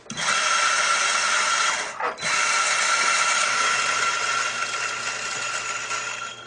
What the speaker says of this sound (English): I'm going to grind the little bit of coffee that's in here right out.